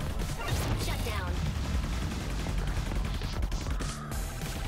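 Rapid weapon fire and crashing impacts from the top-down shooter video game Assault Android Cactus, played on Nintendo Switch, form a dense continuous barrage of shots and explosions.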